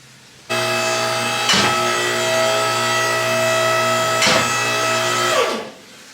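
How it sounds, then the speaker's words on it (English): A power tool tightens bolts on a Honda S2000 rear suspension: a steady, close motor whine runs for about five seconds, broken by a couple of short, sharp hammering bursts. "So now I'll just run through the back suspension, tightening all the bolts."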